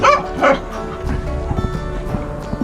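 A pet dog gives a few soft woofs and whimpering yips at close range, with some faint voices in the background.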